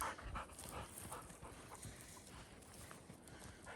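A bird dog pants steadily while searching outdoors through cover for birds or rabbits, the quick close breaths repeating in short bursts with faint rustling and footfalls, and no talk.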